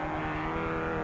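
A 1979 production saloon racing car on the circuit at Phoenix Park, Dublin, gives a steady, close engine drone for about a second, with no talk.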